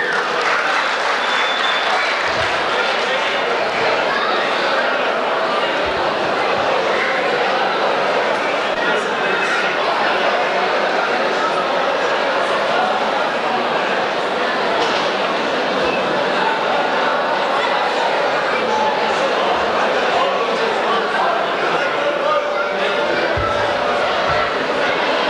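An audience at an award ceremony gives long, steady applause, a dense wash of clapping that keeps going, with some faint crowd chatter underneath.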